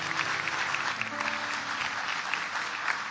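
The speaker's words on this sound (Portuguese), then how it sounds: "Você pode aplaudir a Jesus?" Audience applause for Jesus at a church sermon, a steady, dense wash of clapping that fills the room, with some background tones underneath and no speech.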